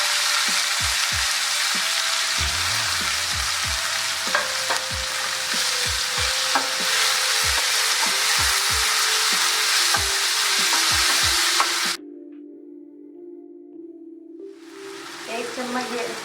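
Onions, tomatoes and green chillies fry in a pan for a dhaba-style anda ghotala, a loud, continuous sizzle with frequent spoon taps against the metal before the frying cuts off and quiets.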